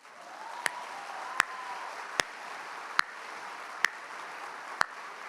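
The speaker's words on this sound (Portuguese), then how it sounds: "Eu vou aplaudir sozinho." A lone person claps slowly, six sharp, evenly spaced hand claps over a quiet background hum, each one crisp and isolated.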